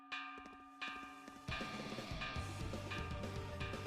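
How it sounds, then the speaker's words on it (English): A warning bell rings in the action RPG Ys IX Monstrum Nox, with bright metallic strikes about every 0.7 seconds that grow denser and louder as low rhythmic game music builds underneath. "It's a warning bell."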